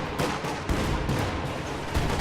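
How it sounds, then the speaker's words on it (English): A Katyusha rocket barrage fires in a World War II strategy game, a dense roar of overlapping launches and blasts with sharper thumps punching through near the start and end. "Katyusha barrage firing."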